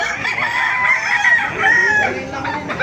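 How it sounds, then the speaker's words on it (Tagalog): Several gamefowl roosters of Boston Sweater, Hatch and Gray breeds crow loudly and close by, overlapping one another with a steady hum of farmyard noise underneath. "Napakaraming manok kayo dito. Maganda ng mga manok."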